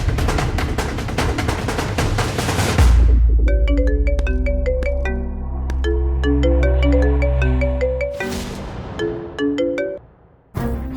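A phone ringtone plays loudly and close, a bright repeating melodic tune over a low hum, broken by a pause near the end before the ringing starts up again; no speech.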